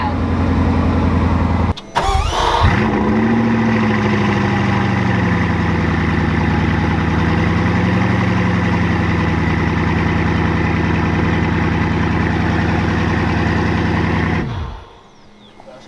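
A Bugatti hypercar engine cranks and fires with a sharp burst, then settles into a loud, steady, deep idle that holds for about twelve seconds before cutting off.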